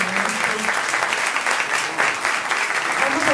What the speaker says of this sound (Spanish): Un fuerte aplauso a los maestros